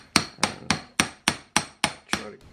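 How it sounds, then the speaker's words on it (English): A big socket is hammered in to seat a part of a 1990 Saab 900 steering rack during a rebuild: eight sharp, evenly spaced metallic blows, close and loud, with no talk. "Just making sure I'm hammering it in all the way"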